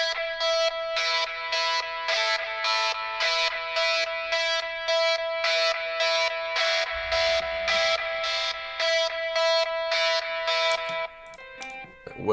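A distorted electric guitar runs through an amp sim plugin and is rhythmically muted into a choppy gated pattern. Even pulses of buzzy tone stutter steadily at moderate level, and a lower layer joins partway through.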